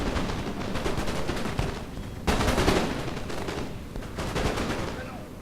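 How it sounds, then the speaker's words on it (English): Line infantry in a video game fire musket volleys, and the shots crackle in dense, rapid bursts with a sharp louder volley near the middle. Gunfire carries on steadily throughout, with faint talk underneath. "He's got a lot of guns firing in at me."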